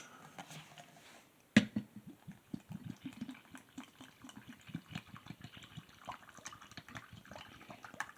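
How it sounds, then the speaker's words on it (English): Water is poured into a glass holding a creamy powder drink mix from a ration pack, a close run of small gurgling splashes after a sharp knock, with no voices. "let's get our water in there."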